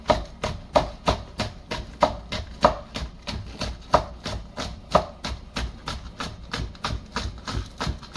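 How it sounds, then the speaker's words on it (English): A knife slices green onions on a cutting board in quick, even taps, about three per second, close and crisp, with no talking. "What I like to do with green onions is just cut off the ends, clean up my board, and then slice these real"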